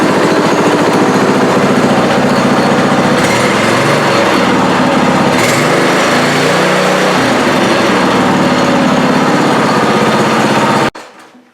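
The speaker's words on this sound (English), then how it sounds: "I'm just going to turn the engine on one time" A small engine runs steadily after a new throttle cable is fitted, a loud, close, buzzing drone with a slight rise and fall in pitch midway, cutting off abruptly near the end.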